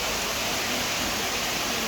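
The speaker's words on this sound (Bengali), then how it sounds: "অনেক বৃষ্টি আজকে, অনেক বৃষ্টি হচ্ছে" Heavy rain falls in a dense, steady hiss, loud and close, heard from a balcony with no pause and no voices over it.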